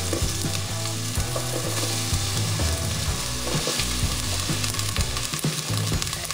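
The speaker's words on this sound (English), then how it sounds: "we're going to start off with sauteing off the onions" Onions saute in olive oil in a pan on the stove: a loud, constant sizzle broken by frequent clattering knocks and scrapes as they are stirred, with no talking.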